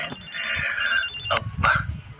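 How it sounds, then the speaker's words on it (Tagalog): A cellphone rings indoors with a trilling electronic tone in two or three bursts, heard close and fairly loud against a quiet room, part of a Filipino radio drama scene. "May tumatawag sa cellphone ko."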